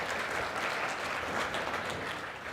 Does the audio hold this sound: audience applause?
yes